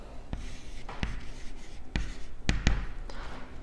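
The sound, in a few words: pen writing on a board in red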